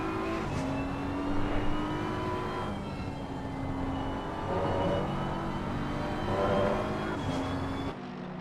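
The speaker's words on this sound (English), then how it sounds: "That BMW just sounds beautiful." A BMW race car engine roars steadily in Assetto Corsa Competizione at Laguna Seca, a loud continuous high-revving drone with rising and falling pitch through gear changes, close and alone.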